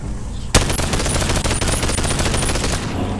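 Rapid rifle fire in the VR video game Bonelab, a loud continuous burst of closely spaced shots lasting over two seconds, starting with a sharp crack and ending abruptly.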